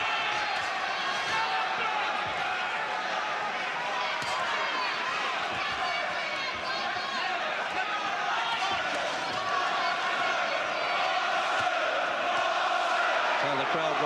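Boxing arena crowd at a 1990 professional fight, a loud, sustained roar of many voices that swells slightly, with a commentator speaking over it.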